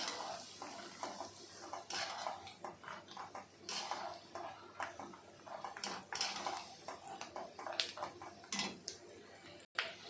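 Peanuts being heated in a pan are stirred with a metal utensil, producing repeated scraping clinks and rattling taps at an irregular rhythm, close and fairly quiet.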